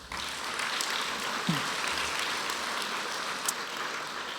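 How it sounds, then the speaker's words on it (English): A round of applause from an audience in attendance at a university presentation, a steady, moderately distant wash of clapping that holds evenly throughout with no voices on top. "So please give yourself and all of the other folks in attendance a big round of applause."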